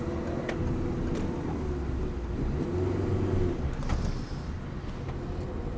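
A car engine rumbles steadily during a driving lesson as the learner shifts gears, a low continuous drone that eases briefly near the end.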